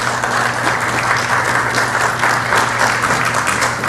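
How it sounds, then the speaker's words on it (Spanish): A seated audience applauds the speakers at a conference, with steady, dense clapping from many hands filling a hall and no pause. "un aplauso para nuestros ponentes"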